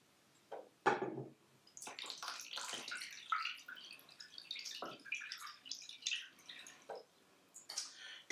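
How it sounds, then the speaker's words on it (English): Water is poured into a baking container holding a cheesecake flan before it goes into the oven, giving irregular splashing and trickling bursts with drips, close and fairly quiet. "The last thing you guys gotta do is add water to your container here"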